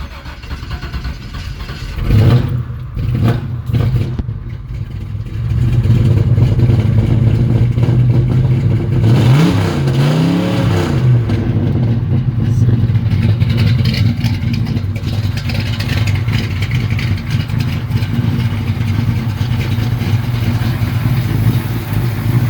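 A 1962 Chevy Nova project car idles close by with a steady low rumble, broken by a few sharp blips early and a rising-then-falling rev in the middle before settling back to a rough idle.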